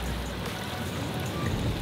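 Rain patters steadily while fishing for perch on a river in windy weather, a dense, close hiss of drops across the whole short stretch with no talking.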